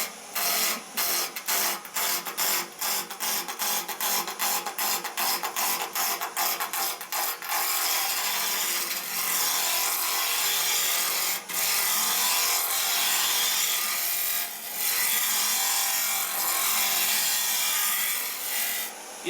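Wood spins against a cutting tool on a lathe while a handle is turned, first with a rapid rhythmic chatter, then settling into a smooth, loud, continuous scraping hiss.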